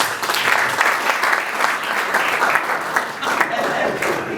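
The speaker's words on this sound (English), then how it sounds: "I think they deserve a round of applause." Audience at a 2016 Rwanda National Day gathering in Lusaka, Zambia breaks into a round of applause, a continuous, moderately loud patter of many hands clapping for several seconds with no one speaking over it.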